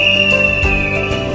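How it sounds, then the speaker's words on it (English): A whistle blown as an emergency signal for someone trapped in an earthquake, one loud sustained shrill tone held steadily throughout, close and alone. "A whistle is used to inform that someone is trapped during an earthquake."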